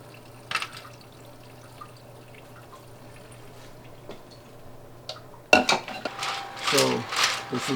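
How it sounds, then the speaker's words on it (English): Faint clicks and taps at first, then a sudden onset of sloshing cleaning solution with Lego bricks rattling and clinking as they tumble in a drum, fairly close. "just tumbling the Legos as it goes on"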